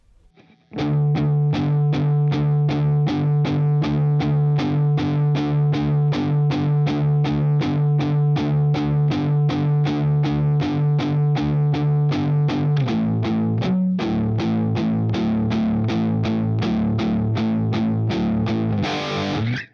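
A heavily distorted electric guitar strums one chord over and over in a fast, even rhythm, then shifts to a couple of different chords near the end.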